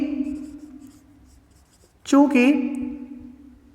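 A pen scratches across paper as a math solution is written out. The scratching is soft and close at first, then a voice speaks over it.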